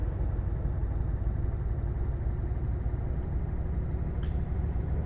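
A truck engine in Euro Truck Simulator 2 idles with a steady low rumble that stays even and continuous, apparently running rough as if faulty, loud and close with no speech.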